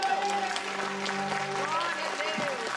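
Church congregation applauding, a dense crowd clatter mixed with raised voices and sustained vocal tones that sit on top of the clapping throughout.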